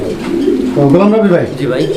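Fancy pigeons cooing close by at a pigeon sale, soft throaty warbling calls rising and falling, with low background chatter.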